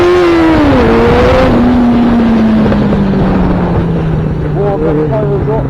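A Yamaha XJ6N motorcycle rides along a Coventry street, its engine drone close and steady, sliding slowly down in pitch as it runs, with wind buffeting the microphone throughout.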